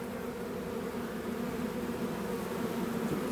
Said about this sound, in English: So many bees in the air. They're all buzzing around my head.